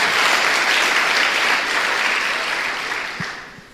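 A church congregation bursts into sustained applause, dense and loud from the start and tapering off near the end, with no voices over it.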